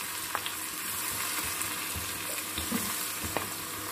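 Shallots, garlic and ginger sauté in oil in a pan, producing a loud, continuous frying sizzle with a few soft stirring knocks and no talking.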